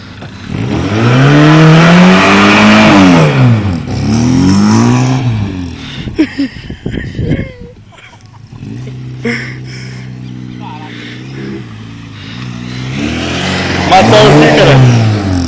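A car revs hard and spins its tires on grass, the engine note rising and falling in loud repeated surges, with people talking and shouting nearby throughout.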